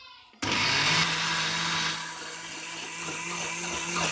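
A blender whirs loudly and steadily, grinding a green herb paste for spicy chicken pulao. The motor starts abruptly and runs continuously up close, with a slight dip in pitch partway through.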